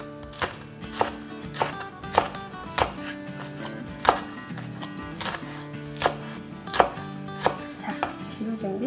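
Knife chopping green chili on a cutting board while preparing Korean bean sprout soup, a run of sharp, evenly spaced close knocks with a few quicker strokes, loud and with no talk.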